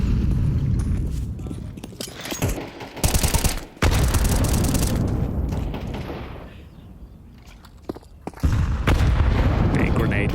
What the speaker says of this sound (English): Big grenade damage.